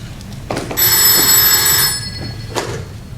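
A telephone bell rings loudly and close for over a second, a shrill metallic trill, followed by a quieter pause.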